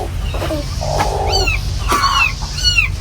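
A cat gives several short, high, sliding meows in quick succession, close by, over a low background rumble.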